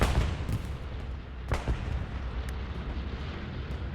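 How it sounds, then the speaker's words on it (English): Bombing run explosions in a World War II shooter on the Hürtgen Forest map, distant heavy booms and thuds rolling under a constant battlefield rumble, with one sharper blast near the middle. "Do we hear a bombing run coming in?"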